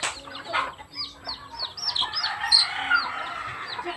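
Chickens cluck and squawk close by in quick, overlapping bursts, with a brief crow-like call among them.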